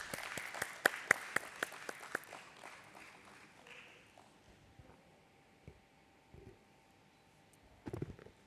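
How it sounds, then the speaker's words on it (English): Scattered hand claps ring out at a stock exchange listing ceremony, a handful of distinct sharp claps at first that fade into quiet room noise, with faint shuffling and another small burst near the end. "Let's welcome all with a round of applause,"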